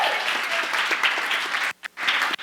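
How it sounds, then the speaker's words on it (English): An audience bursts into a round of applause, dense and continuous, briefly cutting out near the end before resuming. "be a round of applause."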